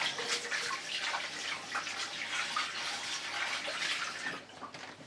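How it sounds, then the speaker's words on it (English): Steady running water from a tap as acrylic paint is washed off hands, a continuous close splashing rush with small shifts as the hands move under the stream, then easing slightly at the end. "of washing the remainder off my hands"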